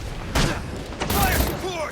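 Gunfire in Batman Arkham Origins, a few loud close blasts with booming impacts and ricochet-like whistles over about two seconds, with voices shouting alongside.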